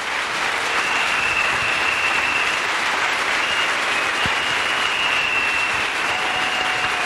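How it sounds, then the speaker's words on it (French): A large church camp congregation applauds continuously, a dense, steady wash of clapping that fills the whole stretch without any speech. "Let's clap for Jesus Christ."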